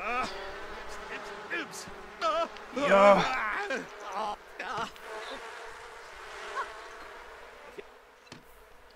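Bees hum around beehives in the Sims 4 video game, a continuous soft buzz running beneath a person talking.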